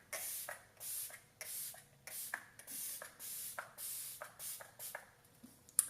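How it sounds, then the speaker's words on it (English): Olay Ultimate Hydration Mist setting spray hisses onto a face in about ten short, evenly spaced bursts, close and crisp with quiet handling between them. "I'm using the Olay Ultimate Hydration Mist."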